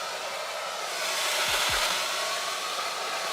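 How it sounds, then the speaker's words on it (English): A blow dryer drying a wig cap blasts in a loud, continuous airy roar, holding steady throughout with a brief swell near the middle and no talking. "Maybe we should grab a blow dryer"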